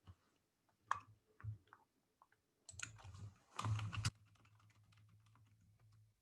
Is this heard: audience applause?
no